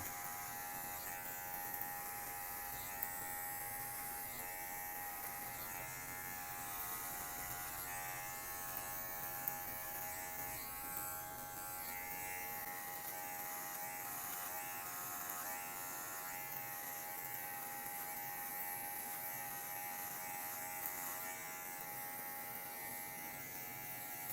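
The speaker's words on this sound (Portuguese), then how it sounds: "Então a máquina vem daqui de baixo, passou o occipital, ela começa a seguir o curso dela." Electric hair clipper cutting a fade in a barbershop, a faint, continuous steady buzz humming throughout with small changes in pitch as it moves through the hair, no talk.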